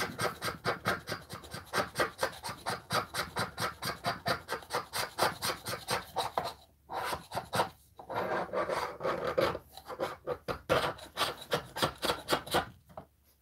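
A carving is scraped by hand-pushed strokes that make a steady, rhythmic rasping, each scrape close and distinct, before the strokes turn irregular and denser toward the end.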